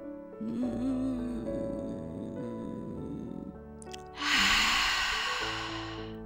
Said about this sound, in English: We begin by flexing our rib cage and opening up our lung capacity in pranayama breathing.